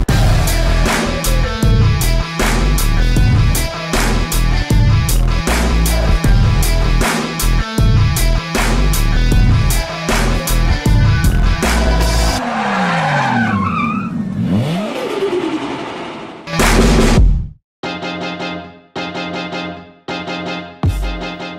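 Race cars launch off the start line at a street-racing event. A loud, continuous engine roar with tyre squeal fills most of the clip. Engine pitch climbs as the cars pull away, and a closer, choppy revving follows.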